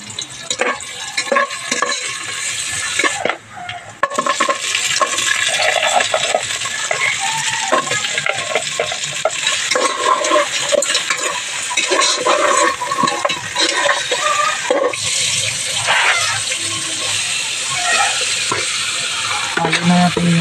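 Ginger, onion and garlic sauté in butter with a loud, continuous sizzle, while a utensil stirs and scrapes the pan in repeated strokes.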